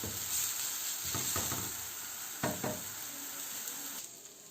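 Chopped onions and tomatoes fry steadily in a hot pan on a home stove, a continuous close sizzle broken by a few scraping stirs, with no voices over it.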